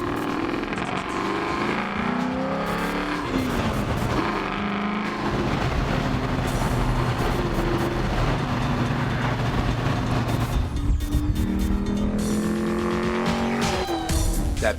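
A black Holden Commodore with an LS1 V8 and a dual 3.5-inch stainless steel exhaust rumbles steadily and loudly, its deep engine note sustained throughout with no talking.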